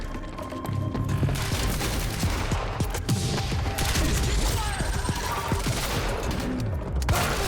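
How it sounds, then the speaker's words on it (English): Sustained gunfire fills a Quantum Break firefight, with rapid bursts and volleys crackling steadily throughout, loud and close, and occasional crashes mixed in. "He's firing!"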